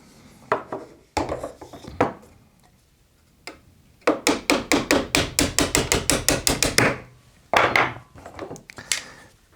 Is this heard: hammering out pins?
yes